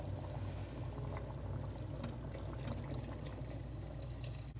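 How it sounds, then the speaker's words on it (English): Water is poured into a pot of okra soup made with blended tomato. A steady, continuous splashing pour runs close by for several seconds, with no talking. "Now we're gonna add water."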